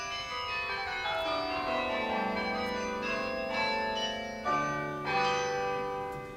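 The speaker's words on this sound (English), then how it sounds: "And that are the carillon bells." Electronically produced carillon bells ring in overlapping struck tones with long sustained decays, steady and clear with no talk.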